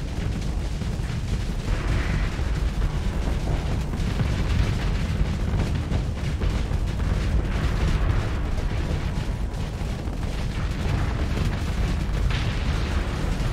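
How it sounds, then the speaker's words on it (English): Big torpedo hits detonating against a station in the space combat game Starsector produce a continuous, loud wall of explosive rumble and crackling blasts with no pauses, and no voices. "Ooh, big torpedo hits. Nice. The station armor got blown up."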